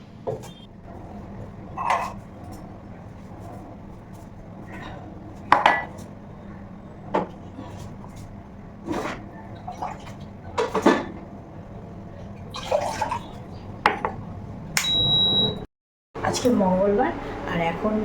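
Pots, dishes and cutlery clink and clatter intermittently in a home kitchen while tea is being put on, sharp close knocks scattered among soft background noise, with a voice speaking at times.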